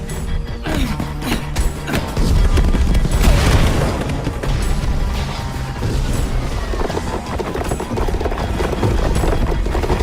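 Fireworks go off in the Minecraft Story Mode video game, a dense run of booms, crackles and bangs that continues for about ten seconds, loud and busy, mixed with game sound effects.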